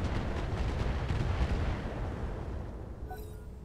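Heavy mech weapons fire in the Roguetech video game as a dense, continuous rumble of blasts and booms, loud and steady before tapering off slightly near the end.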